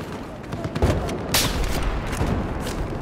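Scattered gunshots and distant booms in Battlefield 4 PC multiplayer, several sharp cracks over a steady rumbling background, with a player talking faintly beneath.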